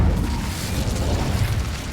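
A sustained, dense magical fire blast from the Incendio spell in the Hogwarts video game, a continuous roaring burst with low rumble that stays loud throughout.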